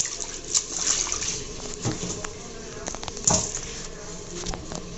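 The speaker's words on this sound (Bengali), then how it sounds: "এখন আমরা শুটকিগুলোকে ধুয়ে নেব।" Soaked dried fish being rinsed in water, with faint splashing and sloshing and a couple of brief louder splashes close by; no one speaks.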